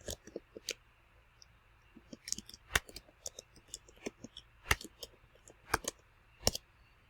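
A business name is typed on a computer keyboard as a series of faint, irregular key clicks, sparse at first and then coming in small clusters, with no voices.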